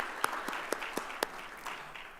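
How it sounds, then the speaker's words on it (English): Scattered applause at a higher-education launch and conclave, a thin spread of claps with a few sharper hand strikes standing out, moderately quiet and fairly distant, with no talking over it. "A little round of applause, please"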